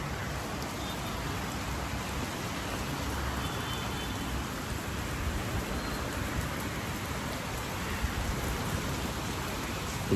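Heavy rain pours down in Mumbai, a dense steady wash of drops on surfaces, continuous and fairly loud with faint background traffic and no voices.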